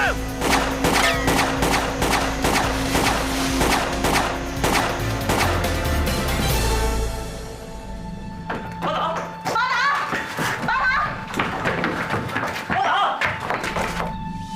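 Rapid gunfire cracks in a dense volley, then scattered shots ring out between shouting voices.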